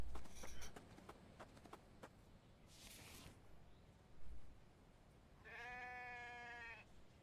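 Sheep bleating inside a survival video game, a wavering nasal bleat near the end after scattered clicks and a brief hiss, with no talking.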